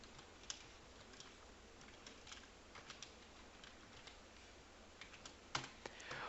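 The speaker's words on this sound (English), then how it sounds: "I'm going to type in this" Quiet keystrokes on a computer keyboard, irregular bursts of soft clicks with a few sharper taps, close but faint over a low steady hiss.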